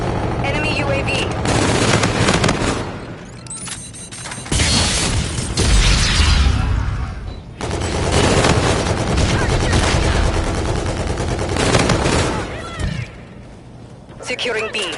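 Dense automatic gunfire and explosions rattle through a Call of Duty: Infinite Warfare multiplayer match on PS4, loud and nearly continuous, with game voice callouts mixed in.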